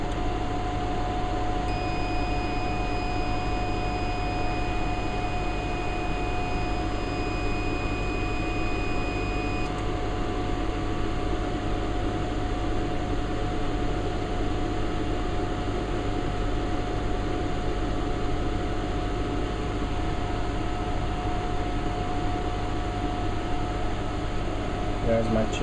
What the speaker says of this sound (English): Start your bottom and top cooler.